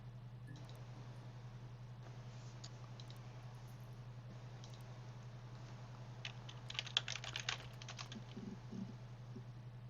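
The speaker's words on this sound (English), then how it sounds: "They're definitely typing things out there." Keys clack on a computer keyboard in the video game Her Story: sparse clicks at first, then a quick cluster of typing near the end, over a steady low hum with no talking.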